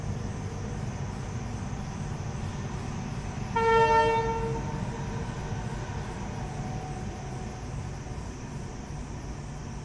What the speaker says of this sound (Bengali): একটু আগে ট্রেন ক্রস করলো